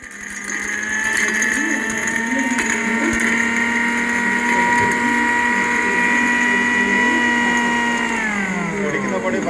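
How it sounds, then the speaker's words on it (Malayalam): An Instagrand mixer grinder runs at a trade fair stall, giving a loud, steady motor whine with a high harmonic drone that holds throughout and then begins to wind down near the end. "നമുക്ക് ഇൻസ്റ്റാഗ്രാൻഡിൻ്റെ ഒരു മിക്സി പരിചയപ്പെടാം."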